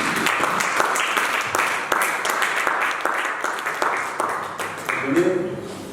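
Applause and clapping from a church congregation at a French-language worship service fill the whole stretch, dense and steady, with cheering voices mixed in throughout.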